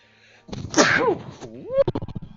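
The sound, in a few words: sneeze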